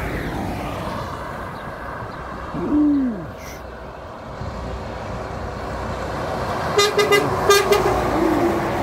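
A passing truck on highway BR-304 in Rio Grande do Norte sounds one short, loud horn blast whose pitch drops as it goes by, over steady road rumble and the heavy engine drone of more trucks passing.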